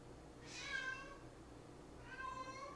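Two separate cat meows, the first rising and fading, then a second one about a second and a half later, fairly close and clear over a quiet indoor background.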